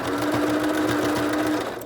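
A sewing machine runs steadily as it stitches pleats into a fabric face mask, with a continuous close, loud whir and needle rattle lasting about two seconds before it stops.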